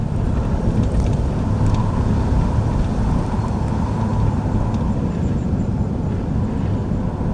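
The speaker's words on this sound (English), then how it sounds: "I love driving through this town." A car driving through the streets of Beaver, Pennsylvania, heard from inside as a steady, loud low rumble of road and engine noise with a faint higher whir, with no talk over it.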